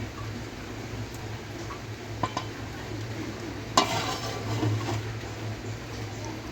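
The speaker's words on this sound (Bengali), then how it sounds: "সরিষার তেল দিয়ে ভালো করে নেড়ে আবার ঢেকে রাখবো" Khichuri being stirred in a pot with mustard oil: soft scraping and faint sizzling over a steady low hum, with a couple of light knocks and one sharper clatter partway through.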